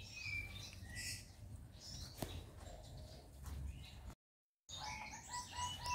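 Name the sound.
caged bird calling in breeding cage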